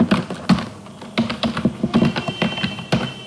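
Someone types a login ID on a computer keyboard for a hotel management system, with a close, irregular run of sharp key taps in quick bursts and short pauses.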